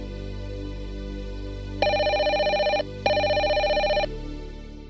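A phone rings during a call in a video game: two bright electronic rings, each about a second long with a short pause between, sounding clearly over a low, steady game ambience. No voices are heard.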